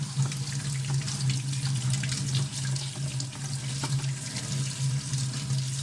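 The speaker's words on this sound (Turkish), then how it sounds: "Bunu biraz daha bol suyla yıkayalım da gözeneklerde tıkanma varsa açılsın." Tap water runs steadily into a sink while dishwasher parts are rinsed, a continuous close hiss and splash with no voices.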